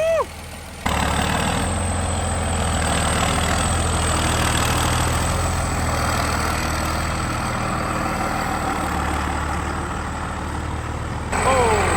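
A 700-horsepower 12-valve Cummins diesel with heavily advanced timing in a custom OBS Ford pickup runs loud and steady, a deep rumbling drone filling nearly the whole stretch with little change in pitch, a brief quieter moment at the start.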